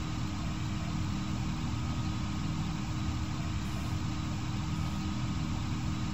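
Inside Flight Simulator X, the engines of a P-3C Orion roar outside the aircraft as a constant, loud, unbroken drone with no voices.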